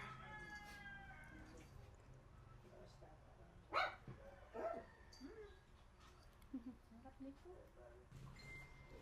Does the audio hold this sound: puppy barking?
yes